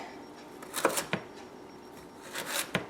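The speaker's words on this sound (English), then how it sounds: "I'm going to cut these up into matchsticks" Several sharp knife strikes on a cutting board as vegetables are cut into matchsticks, irregular and unhurried, close and fairly quiet, with no talking.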